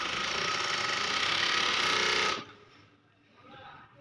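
An overlock sewing machine stitching fabric runs as a loud, continuous mechanical whir for about two seconds, then stops abruptly, leaving faint rustling and handling noise.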